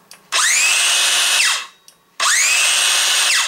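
Older 18V Makita cordless circular saw fitted with a Makita battery, revved free in two loud, close bursts, each spinning up with a rising whine, holding steady, then winding down.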